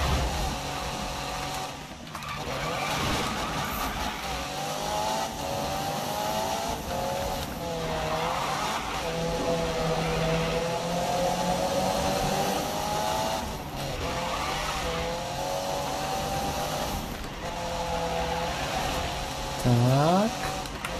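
A car engine racing in Need for Speed 2015, revs rising and falling in long sweeping gear changes with tire squeal and skidding, steady and close throughout, with occasional talking over it.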